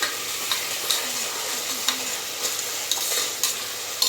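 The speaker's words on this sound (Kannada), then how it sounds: "ಎಣ್ಣೆನಲ್ಲಿ ಶುಂಠಿ ಬೆಳ್ಳುಳ್ಳಿ ಪೇಸ್ಟ್ ಚೆನ್ನಾಗಿ ಫ್ರೈ ಆದಮೇಲೆ ಪುದೀನ ಹಾಗೆ ಕೊತ್ತಂಬರಿ ಸೊಪ್ಪನ್ನ ಕಟ್ ಮಾಡಿ ಎತ್ತಿಟ್ಕೊಂಡಿದ್ವಲ್ಲ ಅದನ್ನು ಹಾಕಿದ್ದೀನಿ" Ginger garlic paste fries in oil with chopped mint and coriander leaves, making a close, constant sizzle broken by regular stirring scrapes and small pops, with no talking.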